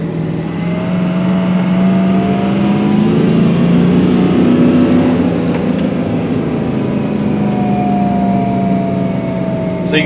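A 2004 Ford F-350 with a 6.0L diesel engine that runs rough and leaks coolant revs loudly and continuously nearby, its droning note rising and falling unevenly with no voices.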